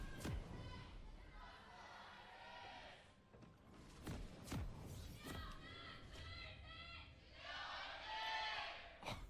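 A large esports arena crowd at a League of Legends LCK match cheers and roars in swelling waves with sharp bursts, while commentators talk over it.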